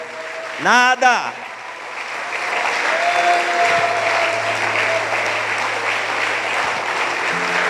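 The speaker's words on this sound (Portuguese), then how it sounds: "Vamos aplaudir a Ele." Church congregation applauding God during a Sunday worship service, a steady sustained wash of many hands clapping that fills the room after a brief loud sung or shouted voice at the start, with a low hum beneath.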